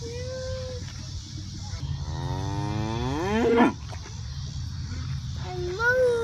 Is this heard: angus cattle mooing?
yes